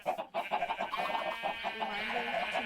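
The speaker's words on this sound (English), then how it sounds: "This is the farming district. We got chicken farm," Chickens on a Minecraft chicken farm, a quick burst of repeated clucks that sit fairly close and moderately quiet, with no talking.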